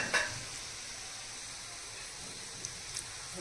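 Kothimbir vadi shallow frying in a small amount of oil, giving a steady, even hiss of sizzling throughout, with a couple of faint pops and clicks toward the end.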